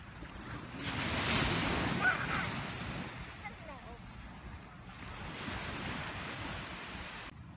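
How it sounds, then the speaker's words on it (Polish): Sea waves break and wash onto a beach in two broad surges, steady and fairly near, with wind buffeting the microphone. "Patrz, jaka idzie fala."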